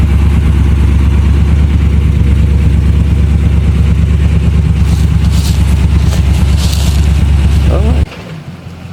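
A 1979 Chevy G20 van engine runs with a holed muffler, giving a loud, low, rumbling idle with a steady throb that cuts off near the end, with faint speech alongside.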